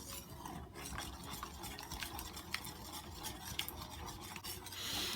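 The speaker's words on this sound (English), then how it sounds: "give it a quick whisk until everything is well incorporated" Eggnog and egg batter for French toast being whisked in a bowl, a quiet, steady scraping and rubbing with faint sharp ticks of the whisk against the bowl. No one talks.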